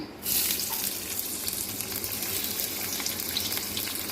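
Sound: chopped onion frying in mustard oil

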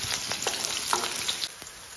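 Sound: scallion, ginger and garlic sizzling in oil over low heat

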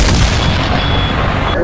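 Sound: cannon fire from a pirate ship

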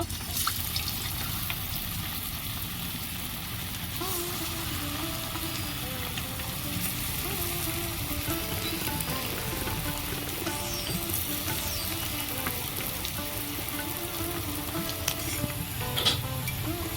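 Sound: vegetarian fish pieces frying in hot oil

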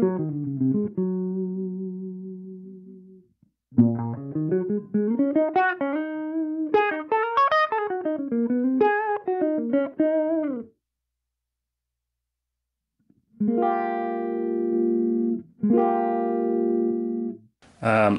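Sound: electric guitar through a boost effect on Line 6 Helix

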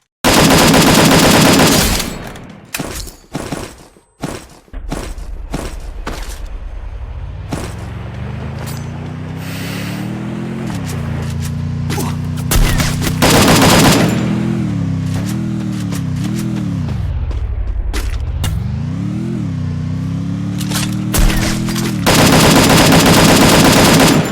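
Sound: gunfire in a video game, teammate being shot

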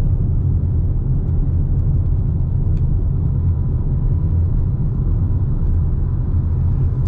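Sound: Toyota RAV4 hybrid driving in EV mode at 48 km/h

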